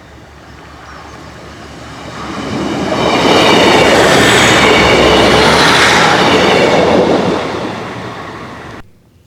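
A train rumbles past close by, swelling from a distant approach to a loud roar with clattering wheels and metallic squeals, then quickly fading.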